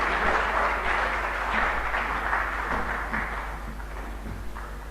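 An audience at a government briefing in Ghana applauds to welcome the Northern Region minister, a dense, sustained wash of clapping that slowly fades, with no talk over it.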